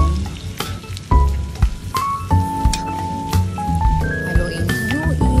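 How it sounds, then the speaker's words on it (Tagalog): Labong (bamboo shoots) cook in a pan while being stirred, with crackling sizzle and sharp spoon scrapes. Loud melodic background music runs throughout. "Haluin."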